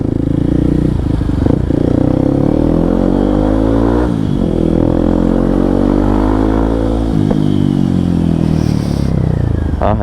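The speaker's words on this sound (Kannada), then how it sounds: "ಎಕ್ಸಾಸ್ಟ್ ಸೌಂಡ್ನ ಫೀಲ್ ಮಾಡಿ" A motorcycle fitted with a loud aftermarket exhaust idles and revs close by, its deep throbbing drone rising and falling through several throttle blips over a steady rumble.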